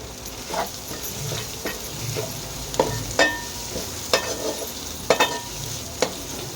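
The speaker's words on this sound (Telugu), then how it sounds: "ఇలా మనం వేసుకున్న పేస్ట్ అనేది పచ్చివాసన పోయేంత వరకు వేయించుకోవాలి." Ginger garlic paste with mint and coriander fries in a pan, giving a soft continuous sizzle broken by repeated scraping strokes and clicks of a spoon stirring.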